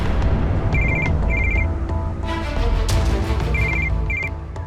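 A telephone rings in short, bright, repeated electronic bursts, two pairs of trills spaced apart, loud and close over a low room hum.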